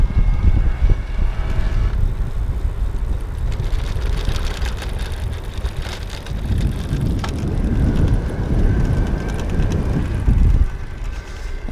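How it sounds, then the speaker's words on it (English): Bulls Cross Mover Speed e-bike ridden over cobblestones, its fender rattling as a steady, rough clatter mixed with wind rush and road rumble, continuous and fairly loud throughout. "I'm gonna ride over those and do the fender noise again for you."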